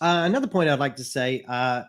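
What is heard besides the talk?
No everyday noise stands out behind the speech.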